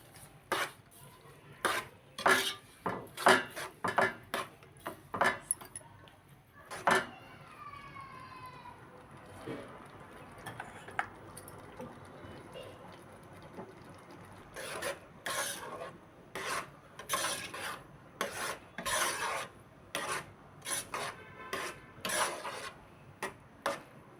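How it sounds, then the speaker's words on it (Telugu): A spoon stirs semiya kesari with sugar in a pan, making repeated gritty scraping and rasping strokes in uneven bursts, close and fairly loud, with a quieter pause in the middle and a few faint metallic clinks. "షుగర్ కరిగిందాక కలుపుకోవాలి."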